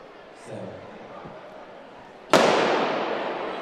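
A starting gun fires for a 200 m heat at a track showcase, one sharp, loud crack that rings out and decays across the open stadium after a stretch of quiet crowd murmur.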